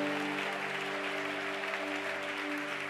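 Congregation applauding in a church, a steady wash of clapping throughout with a sustained tonal hum underneath and no clear voices.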